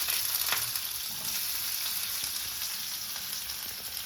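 Onion frying in hot oil with cumin and mustard seeds crackles and sizzles steadily, close, with small pops scattered through the hiss.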